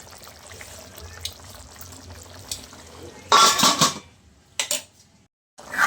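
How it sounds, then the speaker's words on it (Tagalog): A metal lid set down on a cooking pot of chicken curry, a loud clattering clank followed by a couple of smaller rattles close by. "Takpan muna natin ito."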